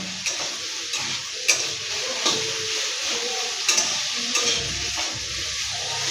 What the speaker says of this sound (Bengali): দিয়ে এটাকে হালকা একটু আমি মিক্স করে নেবো